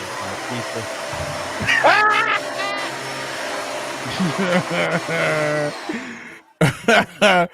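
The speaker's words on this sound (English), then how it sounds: "Don't vacuum your floor while on a Zoom call meeting." A vacuum cleaner drones steadily through a Zoom call, a loud continuous whir that fills the whole stretch while several people talk over it and the noise cuts out near the end.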